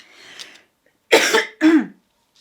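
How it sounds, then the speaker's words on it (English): A person coughs twice in quick succession, loud and close, after a faint breathy throat sound. "I'm sorry for coughing."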